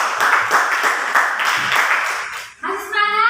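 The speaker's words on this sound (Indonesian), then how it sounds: "Kita berikan tepuk tangan untuk pensi." Classroom applause for students after a school lesson, a burst of many hands clapping that fades out near the end, followed by a voice speaking.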